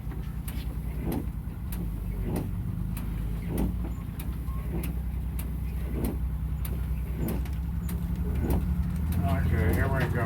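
A bus drives along with a steady engine rumble throughout, punctuated by regular ticking, likely the turn signal, while the driver works up through the gears; a voice speaks briefly over the engine noise.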